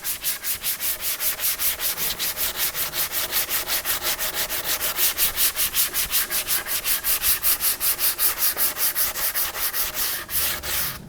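A fiberglass part is sanded by hand with 150 grit sandpaper in quick, even back-and-forth strokes, a rhythmic rasping that repeats steadily throughout, close and loud, with no talking.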